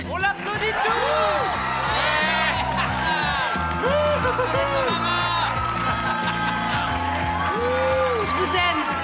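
Crowd at a roller rink cheering, whooping and applauding loudly and steadily, with a music track playing underneath and voices mixed in throughout.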